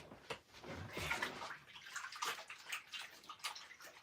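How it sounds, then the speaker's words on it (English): Hands being washed under a running kitchen tap while cooking: a soft, continuous splash and gurgle of flowing water with irregular sloshing bursts as the hands move, fairly quiet and close. "Let me wash my hands"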